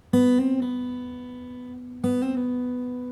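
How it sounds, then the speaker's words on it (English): Two plucked acoustic or electric guitar notes, open string sharply struck, then ringing with a quick index-finger hammered-on rise and pulled-off fall in pitch, clear and close with no voices. "you pluck it open, and then we're going to hammer on and then pull back off"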